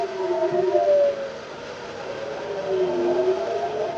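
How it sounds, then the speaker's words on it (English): A wailing emergency siren rises and falls in long, slow sweeps, steady and fairly distant-sounding, with no voices. "The emergency siren sounds and the system moves instantly."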